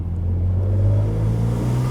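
A BMW Z4 M Roadster engine, heard with the roof open, gives a brief, deep, steady rumbling rev up close, with a strong low tone and no voices.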